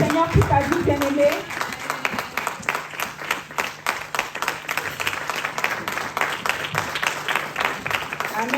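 A church congregation applauds the Lord with sustained, dense clapping that fills the room, while a voice speaks over it at the start.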